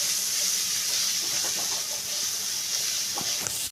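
Chopped onion and whole garam masala frying for an egg korma, a steady loud hiss and sizzle throughout with a few faint scrapes, cutting off abruptly at the end.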